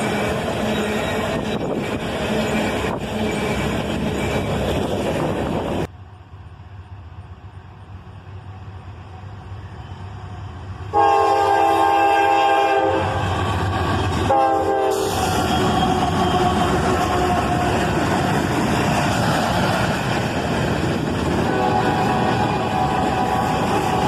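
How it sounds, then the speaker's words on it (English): A BNSF freight train with a six-unit mix of GE Evolution and EMD locomotives rumbles past, loud and continuous, with a long blaring horn blast in the middle and steady wheel and engine roar throughout. "we have a 6-unit lash-up with a nice mix of GEVOs and EMDs"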